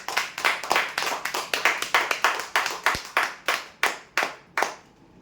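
Sharp, distinct handclaps ring out for a prize-draw winner, a rapid run of separate claps that slows toward the end and then stops, with no voices.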